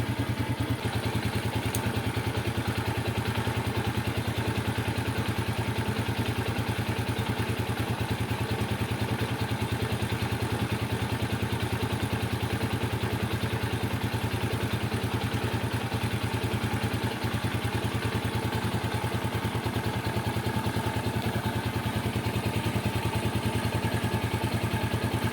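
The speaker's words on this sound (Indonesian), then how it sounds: "mulai kita geber gasnya" A Yamaha Vega ZR motorcycle engine runs steadily nearby, a continuous mid-pitched hum with faint mechanical clatter and no clear rise in revs, holding at an even, moderately quiet level throughout.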